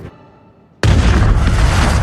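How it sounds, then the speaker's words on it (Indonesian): A bomb goes off in a Super Mario film scene set at a pipe portal. A quiet moment gives way to a sudden loud blast that becomes a sustained, roaring rumble, with no voices. "Bom itu pun meledak, sehingga portal menjadi rusak dan menyedot mereka semua."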